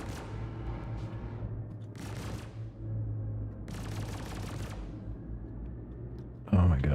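Ship weapons in the Star Citizen game fire in two rapid bursts of crackling automatic shots amid a low engine hum, closing with a sudden louder blast; a voice talks faintly underneath.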